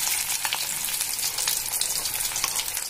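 Mashed potatoes frying in a pan for halwa, a dense steady sizzle with soft rhythmic scraping as the mash is pressed and turned, close and without voices.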